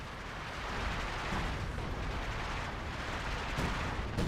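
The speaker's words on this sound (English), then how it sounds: "Dropping artillery." Artillery barrage in Company of Heroes, a dense, continuous rumble of distant explosions rolling steadily throughout, with a sharper burst near the end.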